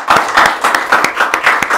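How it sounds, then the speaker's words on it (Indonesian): A small group claps in a podcast studio, a short burst of hand claps at a brisk, uneven rhythm, close and fairly loud. "Oke, tepuk tangan dulu buat Habib"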